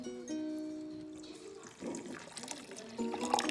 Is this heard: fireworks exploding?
no